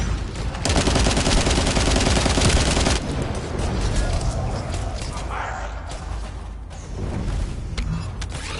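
An assault turret in the video game The First Descendant fires a loud, sustained burst of rapid gunfire for a few seconds, then mechanical whirring and clanks as game combat continues.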